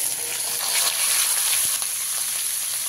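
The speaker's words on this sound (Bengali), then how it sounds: "তেলের মধ্যে দিয়ে দিচ্ছি কিছুটা পরিমাণে 5 ফোড়ন আর অল্প পরিমাণে হিং দিয়ে এবারে হালকা ভাজা ভাজা করে নিতে হবে" Panch phoron and asafoetida fry in hot oil, a steady soft sizzle and crackle throughout, close and alone without any voice.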